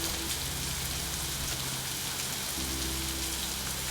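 Steady rain falls on a surface with a constant hiss, joined by a low droning hum.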